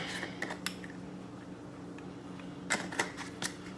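A whisk taps and scrapes quickly inside a pot on the stove, making light, irregular metallic clicks over a steady low hum. The clicks bunch together near the end.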